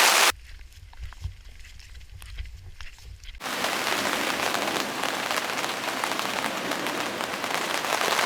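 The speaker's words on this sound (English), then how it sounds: "It's raining again." Steady, dense rain patters loudly on a tent in Africa after a quieter opening stretch, continuing as a constant hiss with no voices.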